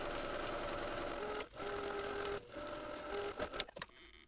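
A sewing machine runs steadily while edge stitching a tote bag, its motor humming in continuous bursts broken by two brief pauses, then stopping with a few fabric rustles and clicks at the end.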